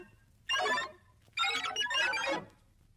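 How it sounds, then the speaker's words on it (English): A bright electronic chime of sparkling tones plays in two bursts, the second longer and fuller, with nothing else around it. "You will know it is time to turn the page when you hear the computer sound like this."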